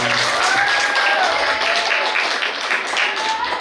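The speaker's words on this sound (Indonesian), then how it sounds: "Boleh minta tepuk tangannya dengan meriah untuk ibu saya." At a concert show for a second anniversary, an audience applauds loudly for the singer's mother, dense clapping with cheering voices throughout.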